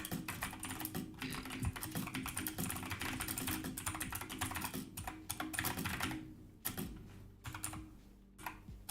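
Loud computer keyboard typed on rapidly, a dense, continuous clatter of sharp key clicks close up, with brief pauses near the end and no talking.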